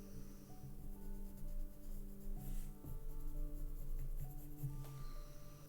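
A colored pencil burnishing paper, a soft continuous close rubbing scratch that stays steady and faint throughout, with a low hum underneath.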